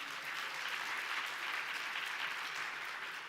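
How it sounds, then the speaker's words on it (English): An audience at an awards ceremony claps in a dense, even round of applause, heard from a distance and sustained without a break. "Give yourselves a round of applause."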